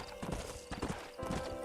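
A horse's hooves clip-clop in the western video game Red Dead Redemption, a few distinct, evenly paced hoof strikes close up in a short, clear burst.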